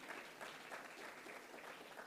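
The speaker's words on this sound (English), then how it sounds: "Round of applause." Audience applause at a nurse anesthesia hooding graduation ceremony, a steady, faint wash of many hands clapping, heard alone.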